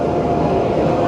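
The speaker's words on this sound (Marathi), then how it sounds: "ट्रेन पण आली एक." Train arriving at the Mathura railway station platform, a steady loud rumble of rolling carriages with no speech.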